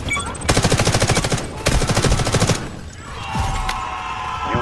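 Video game gunfire from Delta Force: two loud, rapid bursts of automatic fire rattle close by, followed by quieter shots and game effects.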